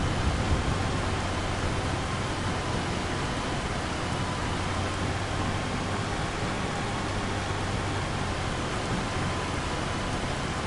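Steady rain falls in Farming Simulator 25, a dense, even hiss holding constant from start to finish with no breaks, alone and without voices.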